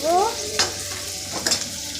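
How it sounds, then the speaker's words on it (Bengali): Chicken curry ingredients with onions frying in oil in a pan, a steady soft sizzle with a couple of brief stirring scrapes, close by and moderately loud, no talking. "ভালো করে এগুলো ভেজে নেব"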